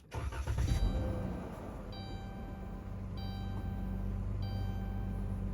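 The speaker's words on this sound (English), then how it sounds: "it's turned the car back on." A car engine starts up with a brief cranking burst, then settles into a steady low idle hum that continues evenly without talk.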